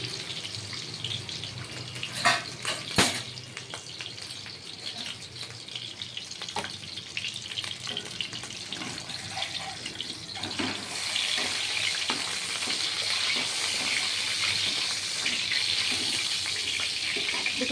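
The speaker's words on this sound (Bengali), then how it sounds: "পনিরটা ভেজে দেবো দেখুন" Paneer frying in a pan for shahi paneer, a steady hiss of oil that grows broader and louder partway through, with a few clatters near the start and no talking.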